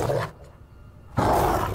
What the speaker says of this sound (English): Sounds like a fucking lion!